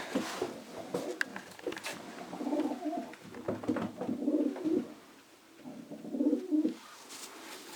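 A Janssen racing pigeon held in the hand gives soft, repeated throaty coos in several short bouts, close and quiet, with faint handling rustles between them.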